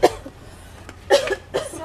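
A few short, sharp coughs close by, one at the start and two more bursts near the end, separated by quiet pauses.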